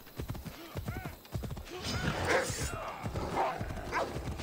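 Video game horse hooves clop in a quick rhythm while a horse whinnies in Assassin's Creed Odyssey, with a dog barking and someone talking over the scene.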